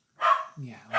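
A pet dog, a male, barks nearby in a couple of short sharp yaps, with a person's brief voice in between.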